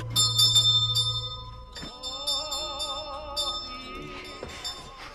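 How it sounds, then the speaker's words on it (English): A hotel honeymoon bell rings repeatedly in a film scene, bright metallic chimes sounding in clusters with layered ringing tones, loud and close, over a low musical backdrop. "the moment the honeymoon bell rings out"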